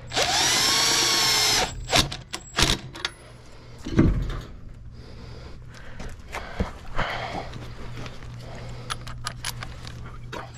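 Power tool spinning lug nuts onto the rear wheel of a Ford F350 or F250 dually truck, with a loud buzzing run of about two seconds, then brief bursts, a clank, and scattered metallic taps.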